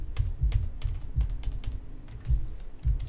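Typing on a computer keyboard: quick irregular clusters of clicky keystrokes, close and fairly loud, with brief pauses between bursts and no voices.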